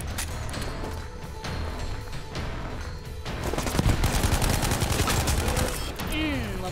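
Gunfire rattles in a Firestorm video game match, dense bursts of rapid shots and crashes over a busy battle mix, with excited voices talking over the action.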